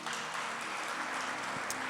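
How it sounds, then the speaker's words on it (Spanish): A church congregation applauds, a dense, continuous wash of many hands clapping at once that stays loud and even for its short length. "Démosle un aplauso al Señor, hermanos"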